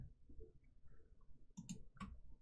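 Mouse clicks in a game editor while testing jumping and air control in a 2.5D platformer, a few soft, quick clicks near the mic with short gaps between them, plus a sharper click at the very end.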